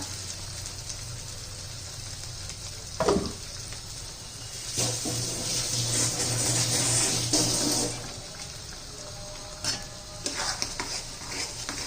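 Egg curry masala sautéed in a pan until the oil separates, a steady sizzle with repeated scraping stirs, a louder stretch of frying in the middle, and occasional utensil clinks, no talking.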